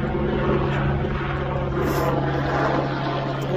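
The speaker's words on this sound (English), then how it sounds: "See helicopters flying here." Helicopters flying overhead near an earthquake swarm area at Keilir, close to Fagradalsfjall, Iceland, giving a steady, loud rotor and engine drone with a constant low hum that holds throughout, no talk.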